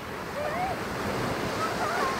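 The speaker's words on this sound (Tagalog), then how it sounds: "Lakas yung alon." Strong ocean waves surge and break in a steady roar at a beach with a strong current, with faint whistling and distant voices over the wash.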